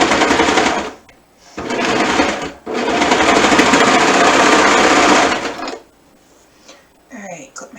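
A serger sewing machine stitches a seam in loud, steady whirring runs, stopping briefly twice before a final long burst fades out into quiet with light handling noises.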